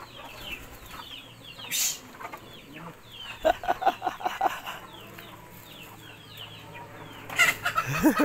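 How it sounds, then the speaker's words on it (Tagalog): A flock of chickens clucks in quick bursts at moderate distance, with scattered sharp calls over an outdoor background. "Ang dami pagalang manok."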